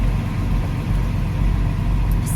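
Steady low engine rumble from a box truck idling, close and continuous with no talk, the drone staying even throughout.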